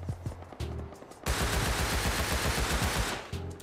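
Rapid automatic gunfire from Rust, a few single shots followed by a long sustained burst of fast, evenly spaced rounds, loud and close, then tapering to a final few shots.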